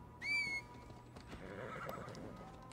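A horse whinnies once in Assassin's Creed Valhalla, loud and close at first, then hooves clop softly over a low background rumble.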